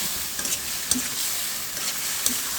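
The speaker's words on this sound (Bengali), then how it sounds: "এখন এই মশলার সাথে সুন্দর করে টমেটোটা কষিয়ে নিয়ে" Chopped large tomatoes fry with spices in a pan for a koi, puti and rui fish curry, a dense close sizzle marked by a few brief stirring scrapes.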